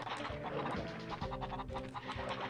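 A chicken in Crash Bandicoot Warped clucks and squawks in short repeated bursts, heard close over steady game music.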